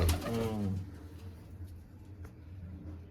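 Pigeons coo in a loft, a low soft burbling call heard near at the start and then fading, with a steady low hum of the loft underneath and faint scattered rustles.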